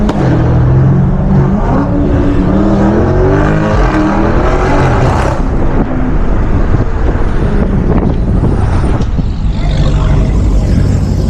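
A 640 HP BMW M550i on a late-night drive, heard from inside the car as a loud, sustained exhaust roar that rises through hard acceleration, with rushing wind noise over it.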